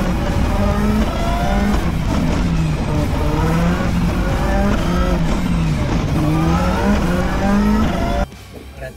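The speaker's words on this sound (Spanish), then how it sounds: "El sonido del boxer para mí." A Subaru WRX boxer engine drones loud and close, its pitch rising and falling through several gear changes before it drops away abruptly near the end.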